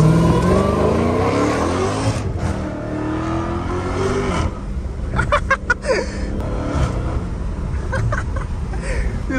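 A Hellcat Redeye's engine revs hard while the car is driving, a loud, close roar that rises and falls with wind noise from open windows and brief crackling bursts midway.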